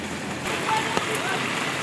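Heavy rain pours down on a Monday afternoon, a constant hiss of water on surfaces with a few sharper drops standing out, while people talk nearby.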